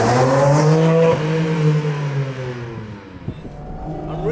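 Porsche GT4 RS engine revving loud and close on a race track, a strong harmonic howl that drops away after about a second, followed by a fading tail and a faint brief squeal near the end.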